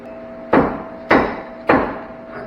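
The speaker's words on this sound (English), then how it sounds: "all I'm doing is bringing my pry bar back to me, not really moving that bolt" Three sharp metallic knocks of a pry bar against a rust-seized bolt on a Chevy OBS 88-99 CV axle, evenly spaced about half a second apart, close and loud with short ringing decays.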